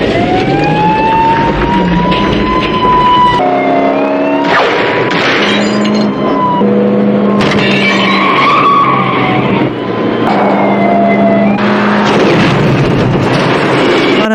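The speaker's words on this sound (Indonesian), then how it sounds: "Rambo pun menabrakkan mobil tersebut yang membuat mobil tersebut terguling." A car in the film First Blood smashes and rolls over, with loud engine roar, screeching skids, sharp crunching impacts and breaking glass in repeated bursts across the stretch, dense and close with no speech.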